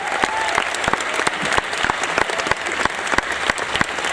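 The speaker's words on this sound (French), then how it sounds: "On peut applaudir bien sûr Brian." A large audience claps loudly and steadily in a dense wave of applause at a private Marvel-themed evening event at Disneyland Paris.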